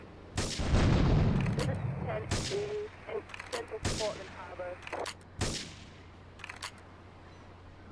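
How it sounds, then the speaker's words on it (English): Several sharp, loud gunshots in the video game GTA 3: Definitive Edition crack at irregular intervals, one followed by a deep rumble, with people talking between the shots. "Investigate reports of gunfire and explosion."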